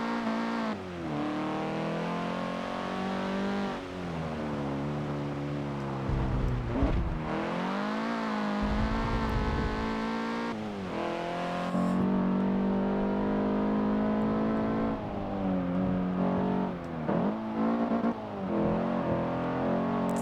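A Honda Civic Type R hot hatch racing in Forza 7, engine screaming up through the revs and bouncing off the rev limiter, with repeated gear shifts, brief throttle lifts and sustained high-pitched whine, no talking.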